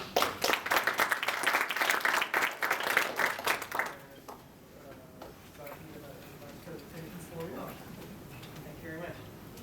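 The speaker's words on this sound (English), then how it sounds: "Give our speaker a round of applause" Audience applause for a guest speaker at a talk, a dense burst of many hands clapping loudly for about four seconds, then fading into quieter room murmur and chatter.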